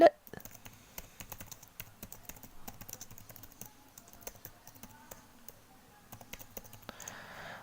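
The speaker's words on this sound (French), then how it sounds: "il suffit de taper cette commande dans votre terminal" Someone types a command into a computer terminal, with quiet, irregular key clicks and taps close by, and a voice speaks over parts of it.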